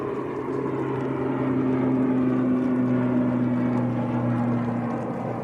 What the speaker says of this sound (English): Arini just getting airborne, ATR 72 going down to Guernsey